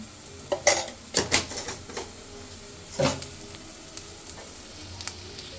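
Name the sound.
stirring sea crab with spices in a frying pan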